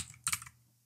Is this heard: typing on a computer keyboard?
yes